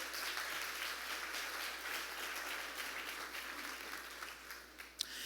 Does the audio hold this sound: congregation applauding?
yes